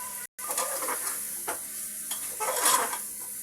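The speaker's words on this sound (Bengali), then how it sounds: "ভালো করে এটা একটু নেড়ে নেব" A spoon stirs vegetables through spiced, seared chicken in a soup pot, giving scraping, shuffling strokes over a soft ongoing sizzle, close and fairly even for a few seconds with no talking.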